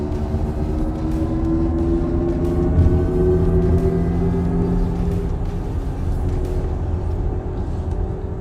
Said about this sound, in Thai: อ่านี่คือเสียงสังเคราะห์